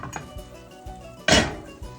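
A pot of tomato sauce slides back into the oven with one solid clanking thunk midway, surrounded by softer metallic knocks and shuffles nearby.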